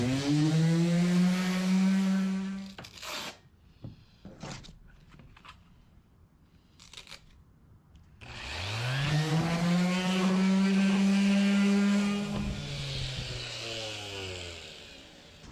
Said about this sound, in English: Now I'm gonna do 80 and 120, and then we'll be done sanding.